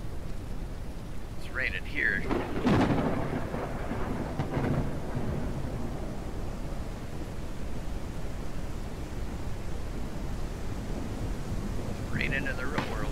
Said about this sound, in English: Raining here.